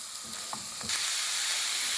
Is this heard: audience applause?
no